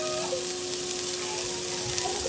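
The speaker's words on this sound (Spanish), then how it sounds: "le voy a poner un poco de aceite para sofreírlo un poco" Basmati rice sautés in hot oil in a pan with a loud, dense, continuous sizzle and a faint steady tone underneath.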